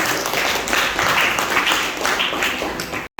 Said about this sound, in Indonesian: tepuk tangan untuk Surya